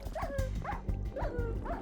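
A dog in Minecraft, summoned as a defender, gives a quick series of short yipping barks, about four in a row at an even pace, fairly quiet and close, with no talk over them.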